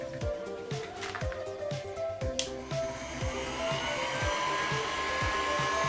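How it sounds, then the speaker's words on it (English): A small pink mini hair dryer runs with a steady, close-up whirring blow that swells and stays constant through the second half, while someone speaks softly over the start. "Get my little hairdryer out."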